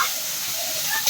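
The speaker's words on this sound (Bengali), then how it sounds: "এবার তেলের ভিতর ফুলকপি ভাজবো" Cauliflower frying in hot oil gives off a constant, close sizzle, a bright, even hiss that holds steady for about a second before a slight surge at the end.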